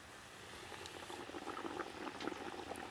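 Artichoke hearts frying in peanut oil, a steady bubbling sizzle with scattered crackles and pops, moderately close and continuous with no one talking.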